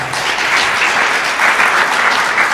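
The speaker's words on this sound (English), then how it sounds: "So let us welcome him with a big clap." An audience applauds to welcome a swami speaker at a pranayama talk series, a dense, steady wash of many hands clapping at close range, sustained and even throughout with no voices above it.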